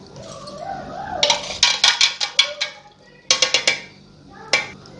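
A spoon stirring milk with vanilla essence in a bowl, heard as bursts of quick metallic clinks and scrapes in two clusters with a final tap, over a faint low background murmur.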